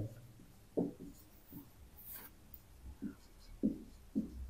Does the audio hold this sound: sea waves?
no